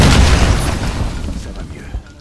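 A thermite grenade goes off in the Modern Warfare shooter game, a loud low boom rolling straight into a dense, crackling roar that slowly fades over a couple of seconds, with a small late pop near the end.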